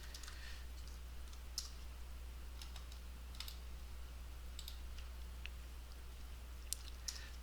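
Computer mouse clicks and keyboard typing while drafting in Revit software: scattered soft, sharp clicks and short key taps, faint and close, over a steady low hum, with no talking.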